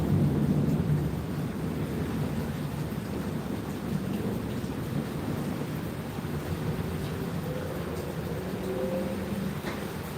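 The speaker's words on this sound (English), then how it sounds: "Can you guys hear the thunder in the background?" Thunderstorm in an Australian backyard: a steady wash of rain with low, continuous rumbling thunder rolling underneath, loud and close throughout with no speech.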